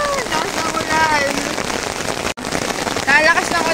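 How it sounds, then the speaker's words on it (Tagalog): Heavy rain pours at a free fishing spot in Paombong, Bulacan, a loud, dense, continuous hiss of drops close by, briefly cut off for an instant midway, with voices talking over it. "Ang lakas na ng ulan."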